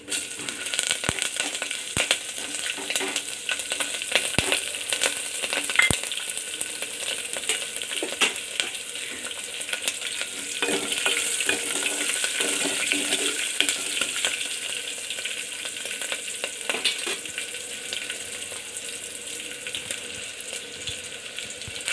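Green chillies frying in oil for pachi pulusu, a continuous crackling sizzle with scattered sharp pops and stirring clicks, steady and close, with no talk.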